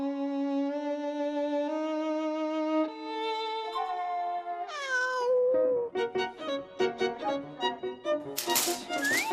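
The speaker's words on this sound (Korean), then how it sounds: "저희 집에는 저와 그리고 첫째, 둘째 고양이가 함께 살고 있어서요." Two pet cats at home meow in drawn-out, tonal calls through the first half, then a quicker run of shorter, rising meows and scratchy rattles, ending in a bright, sharp burst; no one speaks.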